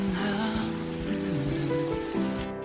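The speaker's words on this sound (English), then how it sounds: "Lee Sin stands lost in thought in the pouring rain" Pouring rain falls in a Korean drama scene as a steady, dense hiss that runs throughout, with sustained music tones over it.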